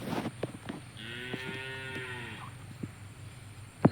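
Cattle moo in a long, drawn-out call at evening by a tree in the countryside, fairly close and clear over a quiet outdoor background with a few soft knocks.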